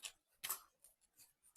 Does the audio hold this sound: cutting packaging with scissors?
yes